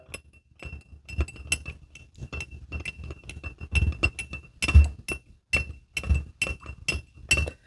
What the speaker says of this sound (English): Somebody want to hear this glass stir.